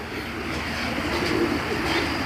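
Giribaz pigeons cooing close at hand during a market showing, a soft continuous murmur over steady background noise.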